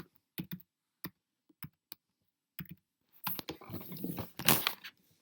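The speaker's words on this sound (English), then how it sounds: "So I went to image and I type in football." Computer keyboard keys struck one at a time while searching for a football image, separate close taps that give way to a quick denser burst of clicking at the end.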